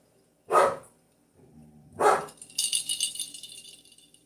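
Two sharp dog barks a second and a half apart, fairly close, followed by a jangling rattle.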